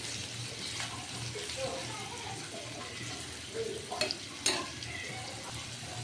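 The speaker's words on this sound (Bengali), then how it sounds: "এখন আমি পেঁয়াজটাকে ভালোভাবে নেড়ে ফেলে দেবো" Chopped onions fry in oil for an egg curry, a continuous soft sizzle with a few scraping stirs near the end, while a voice talks quietly underneath.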